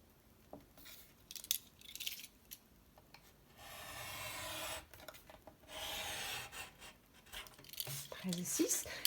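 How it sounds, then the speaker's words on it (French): A cutter knife slices through paper while an envelope is being made, giving soft scraping strokes with short pauses between passes, quiet and close. "Je prends mon cutter. Et je vais couper ici."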